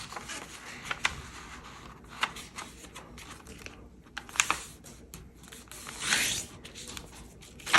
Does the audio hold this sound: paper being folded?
yes